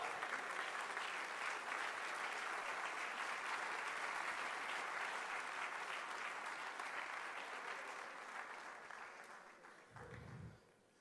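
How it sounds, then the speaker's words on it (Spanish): A church congregation claps loudly for Jesus during a sermon, a sustained, even roar of many hands that slowly fades, ending with a brief low thump. "Denle ese aplauso fuerte a Jesús."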